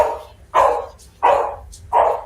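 Three loud, close dog barks spaced about two-thirds of a second apart, each sharp onset fading quickly, with quiet room tone between.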